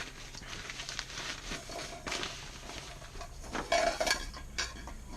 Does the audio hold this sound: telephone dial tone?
no